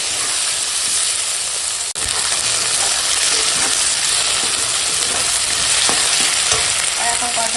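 Potatoes, slit green chillies and tomatoes sizzle and hiss steadily in a hot pan with continuous frying noise throughout, plus a brief scrape of stirring partway.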